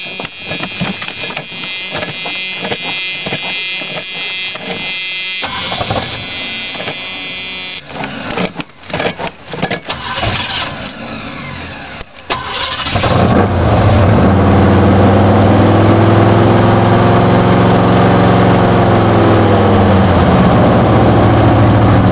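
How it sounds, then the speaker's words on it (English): Cold start of a truck engine, with cranking and rough chatter giving way to a loud, steady low idle that fills the second half, recorded close up. "here's cold start number 2 after hunting."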